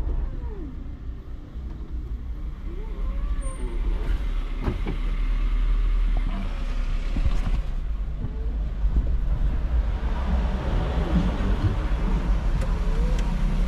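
A truck rumbles in from nearby, a low steady engine drone with heavier surges as it draws closer, mixed with faint background voices and scattered clatter.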